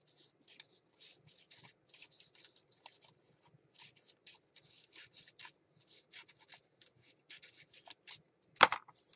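Scissors snip through a small strip of paper during mixed media crafting, a close run of soft, quick cuts and rustles with one sharper knock near the end.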